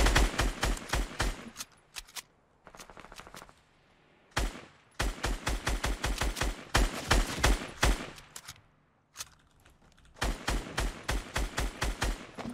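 Rapid bursts of gunfire in the Fortnite battle royale, sharp repeated cracks in dense clusters separated by brief gaps, loud and close with no talking over them.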